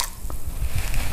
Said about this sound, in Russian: нам сейчас в самом начале нужно залить его горячей водой